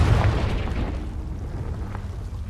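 A Confringo fire spell explodes in Hogwarts Legacy, opening with a deep, loud boom that rolls off into a dull rumbling tail, with a few faint pops as it fades.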